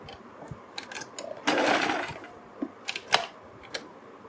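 A sewing machine runs a stitch along a blouse back-neck strip, a steady whir lasting about a second, with scattered short clicks and mechanical ticks before and after it.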